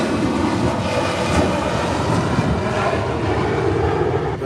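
Aircraft engine roaring steadily during takeoff in a flight video game, a loud continuous rumble and whine with no talking.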